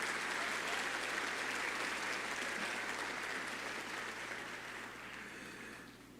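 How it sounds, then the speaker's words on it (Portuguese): A large church congregation applauds steadily, a dense wash of clapping that gradually fades toward the end. "Dê um aplauso bem forte a Ele."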